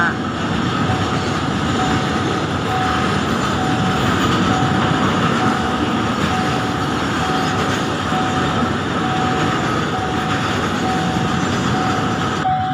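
A freight train rolls past a railway crossing, a loud, steady rumble of wheels and cars lasting throughout with a constant tonal hum above it, close by.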